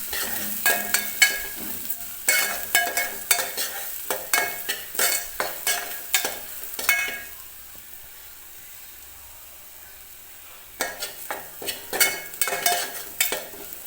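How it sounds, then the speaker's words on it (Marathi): Masala paste frying in oil on a low flame for a mutton curry, with a spoon stirring and scraping the pan in bursts of rhythmic strokes, a quiet pause of gentle sizzling in the middle, then more stirring, close and clear. "आणि हा मसाला आपल्याला व्यवस्थित तेलामध्ये भाजून घ्यायचा आहे."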